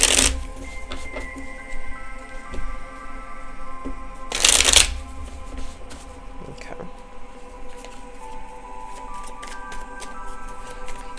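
Tarot cards being shuffled close up, a long run of soft riffling and sliding patter with a couple of louder bursts of cards snapping together, with faint tonal background sounds underneath.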